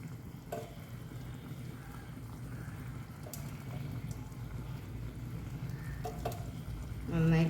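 About 300 g of small cleaned sardines go into a pan of boiling liquid, giving a steady close bubbling and sizzling with a few faint clinks and a louder rush near the end.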